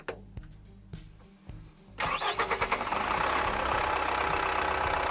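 A Tata Xenon Yodha 4x4 diesel engine is heard with the bonnet open: a few clicks and cranking pulses, then it catches and settles into a loud, steady, close-up idle with a rhythmic clatter.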